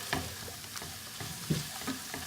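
Chilies and peppers fry in a hot pan for a garlic prawn curry, giving a steady, close sizzle with a few soft scrapes and stirring knocks and no voices.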